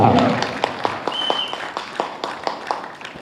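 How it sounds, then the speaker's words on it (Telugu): Audience applause at a theatre play staged at a Nela Nela Vennela event in Khammam, a dense wash of clapping that starts strong and gradually thins and fades over a few seconds, with scattered sharper claps. "అద్భుతంగా నటించినటువంటి అర్హానికి మోగించండి ఒకసారి చప్పట్లు"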